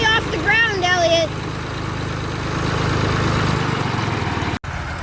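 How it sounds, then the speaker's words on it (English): A tractor engine runs at a steady idle as the tractor is winched up while attached to a house, heard close. A brief voice comes near the start, and the engine drones on until a short dropout near the end. "we're now winching the tractor up, and the tractor is attached to the house"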